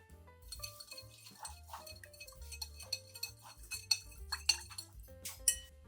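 Garden lime stirred into water in a bowl, giving a string of light clinks and taps of a utensil against the bowl, irregular and close, growing sharper toward the end over soft music.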